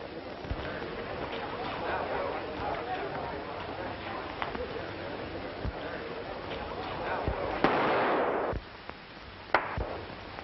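Sharp gunshots from a 1936 western film crack out several times at irregular intervals, moderately loud, mixed with clip-clop and scuffling sounds and people talking throughout.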